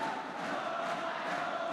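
Spectators at a men's singles badminton match cheering after a point, a steady mid-distance roar of crowd voices with no distinct single speaker.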